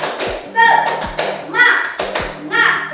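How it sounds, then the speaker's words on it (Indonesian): A group of adults claps out a rhythmic spirit chant together, sharp claps landing in a steady repeating pattern with voices over them, close and fairly loud. "Kita tepuk semangat dulu ya untuk mengawali hari acara Ibu."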